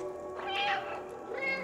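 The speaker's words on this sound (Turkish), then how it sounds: "Bu tuşa basınca sürekli miyavlıyorum." A cat meowing in the Stray video game on PS5: a single clear meow rising and falling, then a shorter second call, moderately loud.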